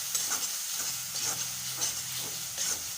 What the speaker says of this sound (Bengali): ভালো করে নেড়ে নিতে হবে।